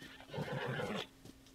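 A horse neighs in the video game Zelda: Tears of the Kingdom, a fairly loud, rough whinny lasting about a second, followed by a softer short snort.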